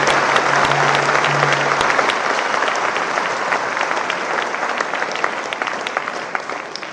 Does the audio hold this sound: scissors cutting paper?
no